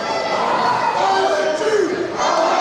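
A wrestling crowd at an SWE Fury show cheers and shouts as one, a dense, steady roar with rising chant-like swells throughout.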